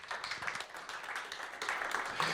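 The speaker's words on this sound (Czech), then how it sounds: "Já vás poprosím o potlesk pro naše hosty" An audience claps for the guests at the close of a public discussion about a city metropolitan plan, a lively crowd of hands with sharp individual claps standing out, growing slightly stronger toward the end.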